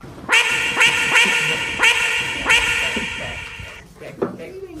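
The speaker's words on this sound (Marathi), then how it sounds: "बदक बदक बदक बदक." A duck on a farmhouse visit gives a series of five loud, evenly spaced nasal quacks close by, followed by a few quieter sounds as people talk faintly.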